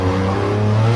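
A RUF CTR Yellowbird race car engine in a racing video game roars flat out in second gear across the finish line, a loud, steady, close drone over one second with no talking.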